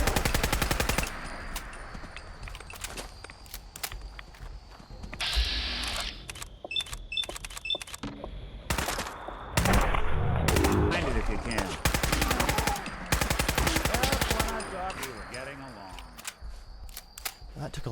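Fallout 4: Far Harbor gunfire rattles out in several sharp rapid-fire volleys with short gaps between, close and punchy, while a voice speaks at points.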